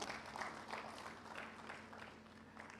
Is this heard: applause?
yes